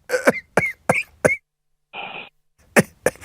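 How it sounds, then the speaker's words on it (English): Several short, harsh coughs come from a radio caller in quick succession, then a brief tonal blip, then two more coughs, all loud and close. "I heard you cough."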